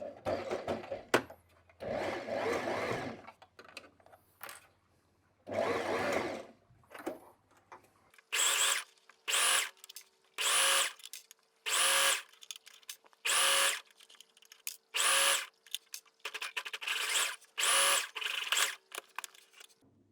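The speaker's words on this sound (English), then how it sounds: "So we're sewing edge to edge with the zigzag stitch all the way around." A sewing machine runs zigzag stitches along the fabric edges of low-rise mini shorts, first in longer whirring passes and then in a regular series of short, loud, close bursts with brief pauses between them.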